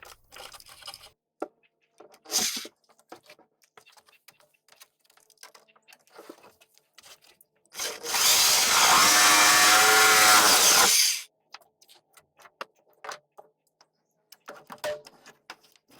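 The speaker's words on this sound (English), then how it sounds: "the skill saw didn't cut all the way through, so I'm using the Sawzall to finish the cut" A Sawzall reciprocating saw finishes a cut through a boat's flybridge hardtop: loud continuous buzzing for about three seconds, with scattered handling knocks and clicks before and after.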